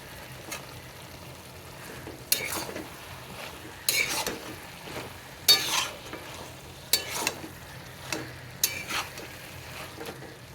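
Boiled potatoes cooking with ghee in a pan, a faint continuous sizzle broken by several sharp stirring clatters of a utensil against the pot at irregular intervals.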